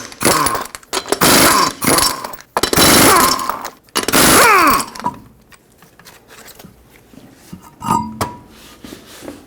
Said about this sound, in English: Use a 21mm socket, remove all 5 lug nuts, and then we can pull the wheel off.